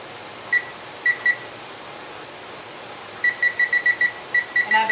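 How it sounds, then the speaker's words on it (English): Kitchen timer beeping as buttons are pressed to set it, a few isolated short electronic beeps followed by a quick run of repeated beeps, close and clear over faint room hum. "So I'm setting my timer for 23."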